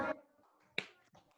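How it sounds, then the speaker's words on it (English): A class of schoolchildren claps out the parts of a word together, giving a short burst of sharp claps at the start, another crisp clap shortly after, and some fainter scattered claps near the end. "Okay, everybody clap the parts."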